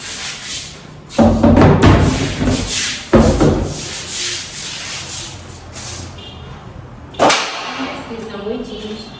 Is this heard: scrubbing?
yes